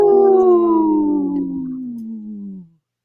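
A single loud, close wolf howl that starts high and slides slowly downward in a smooth, sustained tone for about two and a half seconds before cutting off into silence.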